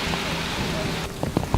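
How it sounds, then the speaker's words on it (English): Rain falls steadily in a broad, close hiss over an outdoor Christmas carol event, with a few brief knocks and taps near the end. "Unfortunately, it's raining, as you can see"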